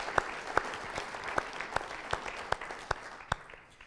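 A round of applause from the audience at a Limitless Tribe night event, a fairly steady clatter of many hands with a few sharper, louder claps standing out at regular intervals before it thins slightly toward the end.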